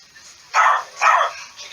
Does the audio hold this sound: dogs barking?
yes